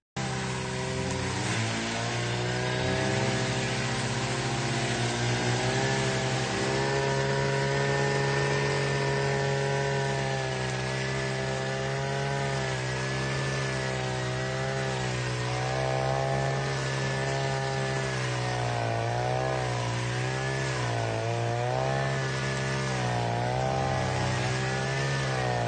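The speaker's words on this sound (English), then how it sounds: "this guy has no clue how to use a weed whacker" A gas-powered weed whacker runs continuously, its small two-stroke engine whining loudly and close, the pitch wavering and surging repeatedly as the throttle is worked unevenly, with no talking.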